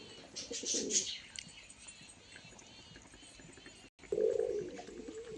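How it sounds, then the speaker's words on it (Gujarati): Flock of domestic pigeons, joined by local desi pigeons, coos after feeding on peanuts; two short bursts of low cooing, one early and one late, come faint and moderately close amid light rustling. "સિંગ ખાઈને કબૂતર ઘૂઘવા માંડ્યા છે ભાઈ"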